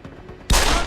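A sudden, loud burst of video game gunfire erupts after a quiet moment and rattles on as a rapid volley to the end.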